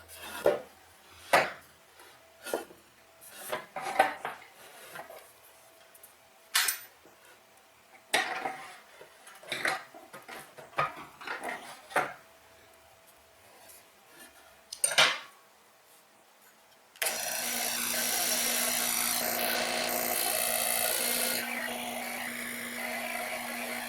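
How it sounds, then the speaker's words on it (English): A saw fitted with a wedge cutting jig resaws a 2-inch-thick piece of red cedar. Scattered knocks and clatter of wood being handled come first, then the saw starts and runs with a loud, steady whine to the end. "take this piece of red cedar 2 inches thick and cut it in two pieces"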